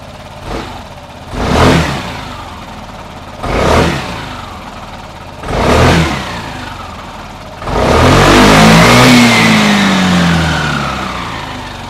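A Vespa Sprint 3V automatic scooter engine blips its throttle in three short revving bursts, then revs up into a longer, sustained rising roar, loud and close.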